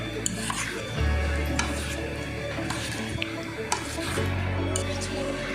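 Scallops being stirred by hand into a curry mixture in a bowl, giving soft wet clicks and scraping of a utensil against the dish over a steady low kitchen hum, no talking.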